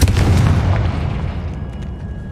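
A Confringo blasting spell explodes in Hogwarts Legacy: one loud, deep boom up close that rumbles and slowly fades over about two seconds, with faint high chimes trailing at the end.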